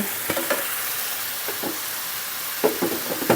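Spatula stirring a chicken and onion stir-fry in a pan, with soft scraping strokes over a steady sizzle, a few distinct stirs near the start, middle and end.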